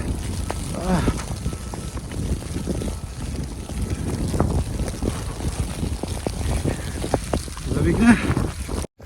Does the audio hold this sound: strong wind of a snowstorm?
yes